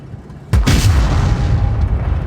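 A tank gun fires once in World of Tanks Blitz, a single sharp, heavy boom up close, followed by a rumbling roar that trails off under steady background noise.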